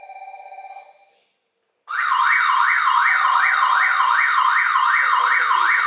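Alarm siren tone from an AI CCTV camera's IP speaker, a loud, steady warbling wail that rises and falls rapidly, preceded by a shorter electronic tone and a brief gap.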